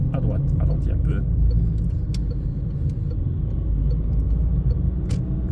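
Inside a car on a driving lesson, a steady low engine and road rumble continues under a nearby voice talking, with small rattles and clicks now and then.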